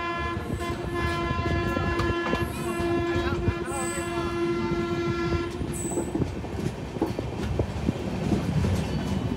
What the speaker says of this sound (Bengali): আমাদের ট্রেন এসে পৌঁছলো সীতামারি জাংশন।